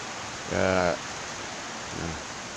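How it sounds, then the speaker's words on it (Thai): Heavy rain pours down steadily outside a house, a constant broadband hiss through the whole stretch, while someone speaks briefly twice over it. "วันนี้ก็ออกไปไหนไม่ได้ครับ ดูฝนตกอยู่บ้านนี่แหละ"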